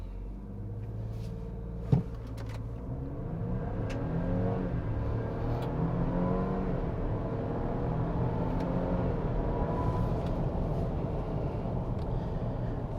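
A 2024 Ford Ranger Lariat in four-high makes a brake-boosted launch: a sharp click, then the engine climbs in a loud, rising rev that holds and builds through the run, heard from inside the cab.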